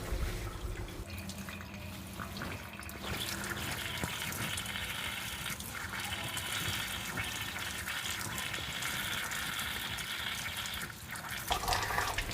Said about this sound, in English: Rinse the excess dye as you can see in the video.